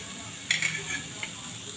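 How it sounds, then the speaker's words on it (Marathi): Onion and grated dry coconut roasting in a pan, giving a faint, steady sizzle with a few brief clinks and scrapes of stirring partway through. "कांदा पण आपल्याला छान भाजून घ्यायचा आहे। यामध्येच आपण खोबरा किस पण भाजून घेणार आहोत।"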